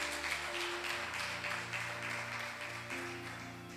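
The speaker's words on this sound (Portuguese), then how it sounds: "dá um aplauso ao Senhor" A church congregation applauds during a worship service. The clapping is soft and distant, with sustained musical tones humming underneath.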